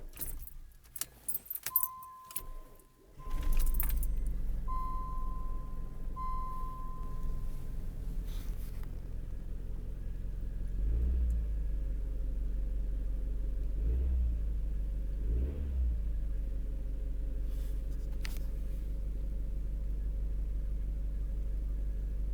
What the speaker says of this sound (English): we are going to try cold start right now.